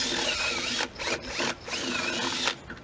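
A drill bit rocked around inside holes in curved PVC pipe, a continuous whirring grind that drops out in short breaks as the bit is shifted, close and steady.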